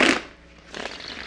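Tarot cards are shuffled close by, two short papery riffling bursts separated by a brief pause, with no voice.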